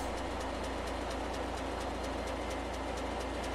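A large diesel engine with 20-inch pistons, square bore and stroke, runs steadily with a dense, even mechanical roar and a regular rapid beat throughout, loud and close with no talking.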